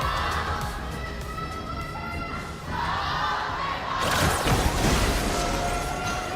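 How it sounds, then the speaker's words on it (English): A large arena crowd at the Honor of Kings World Cup grand finals rumbles steadily, then swells into louder cheering and shouting about two-thirds of the way through, with faint commentary-like voices mixed in. "Here now, we can hear the rumble by the crowd. They're cheering now."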